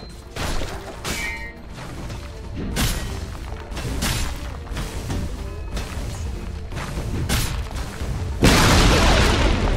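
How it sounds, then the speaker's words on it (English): Dota 2 tower destruction in a video game: a run of heavy booms and crashing impacts with whooshes, ending in a loud sustained noisy collapse. "Radiant's bottom tower has fallen"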